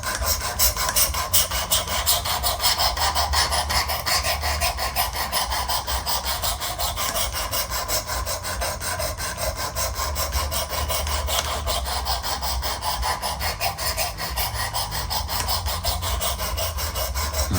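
A kitchen knife is drawn again and again across the abrasive stone of a Work Sharp Precision Adjust Elite sharpener, making a steady, close gritty rasp in quick, even strokes that continue without a break. No one speaks.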